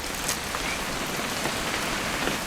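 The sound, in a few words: rain in video game What Remains of Edith Finch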